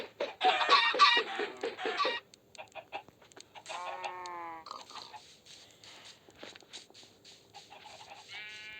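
Synthetic-sounding Minecraft chicken clucks and squawks come in short bursts, alternating with brief pauses and clicky interface noises, fairly clear and close.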